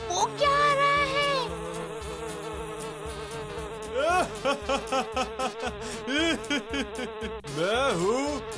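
Cartoon flies buzz loudly in a children's animated show, whining drones that rise and fall in pitch with squeaky, voice-like sweeps, close and continuous.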